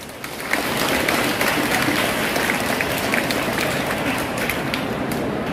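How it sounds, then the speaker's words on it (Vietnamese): A school assembly of students and teachers at Thu Duc High School's opening ceremony in Vietnam claps for grade 10 students, a dense, steady wash of applause running without a break. "toàn trường chúng ta hãy dành một tràng pháo tay thật nồng nhiệt để chào đón sự ra mắt thật ấn tượng của các bạn học sinh khối 10"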